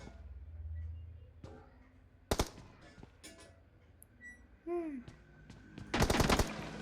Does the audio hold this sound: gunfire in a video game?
yes